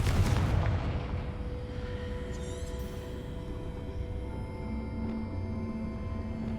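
A Confringo blasting spell in the wizarding game Hogwarts Legacy explodes with a sharp heavy boom at the start, then a long rumbling decay with faint crackling debris and a lingering low hum.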